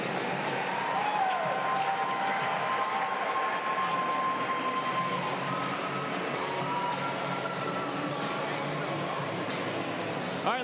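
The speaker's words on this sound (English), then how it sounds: "Let's get a big round of applause for all of these amazing athletes." Sustained crowd applause for athletes at a Penn State versus Minnesota sports event, a broad, even wash of clapping filling a large arena, with a faint tonal whistle and crowd noise underneath.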